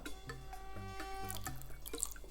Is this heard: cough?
no